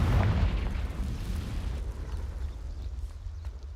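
A blasting-curse explosion in the video game Hogwarts Legacy: a heavy, loud boom right at the start, then a rumbling decay that slowly fades over a few seconds with no talking.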